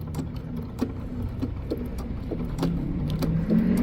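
A sewing machine stitching a straight seam along the edge of fabric for a Halloween treat bag, a steady low mechanical hum with rapid regular needle ticks, close and continuous with no talking.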